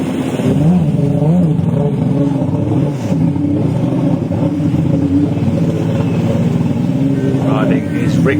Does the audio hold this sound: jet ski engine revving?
yes